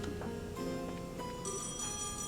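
A telephone rings repeatedly at the Bracer Guild in the Trails in the Sky SC video game, a bright electronic trill that carries on loud and steady without talk.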